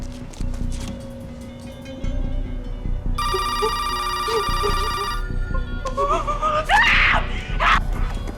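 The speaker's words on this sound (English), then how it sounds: "Screaming inside the house." A person screams inside a house, shrill wailing cries rising near the end, following a burst of telephone ringing and under a dense, tense background.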